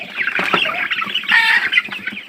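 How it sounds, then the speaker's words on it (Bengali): Sonali chickens clucking continuously, several birds close by, with busy overlapping calls and a few sharper squawks. "এটা হলো আমার সোনালি মুরগি"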